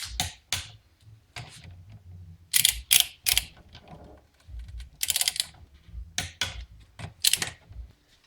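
A ratchet torque wrench tightens bolts on a Ford Ranger master cylinder, a series of sharp clicking ratchet bursts in irregular groups, close and fairly quiet.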